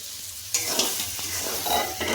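Roasted semolina stirred in a kadai with mixed vegetables, giving a close, steady sizzle broken by repeated scraping strokes of the spoon against the pan, with no voices.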